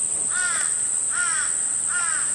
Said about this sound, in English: You can hear the crows in the garden.